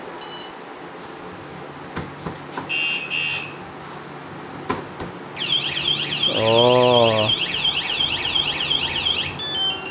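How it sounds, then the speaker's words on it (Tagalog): A wireless alarm on a Kymco 400VS scooter sounds in warbling electronic bursts, first short chirps, then a loud rising-and-falling siren tone with a lower buzzing pulse layered in, and a voice briefly exclaims over it. "Tapos pag alarm, naka-activate yung alarm, ganito ang mangyayari."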